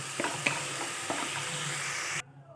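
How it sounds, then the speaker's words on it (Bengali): Water poured into hot oil where pabda fish fries with poppy seed paste gives a steady, close sizzle with a few faint clinks before it cuts off abruptly. "এবার আমি এখানে একটু জল দিয়ে দেবো।"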